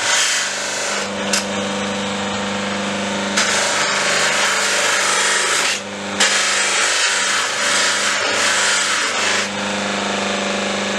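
Polishing mop buffing a de-anodised part on a Kawasaki Z650/1170 motorcycle project, a loud continuous whirring grind that holds steady, with brief dips and surges as the part is pressed and eased off; no talking.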